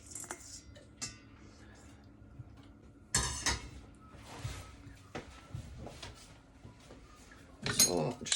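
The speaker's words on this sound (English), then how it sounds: "So just give them a stir" Leeks cooking on low heat are given a stir in a pan. Sparse clinks and scrapes of a utensil against the pan rise out of a quiet kitchen, with a louder clatter of metal near the start and another near the end.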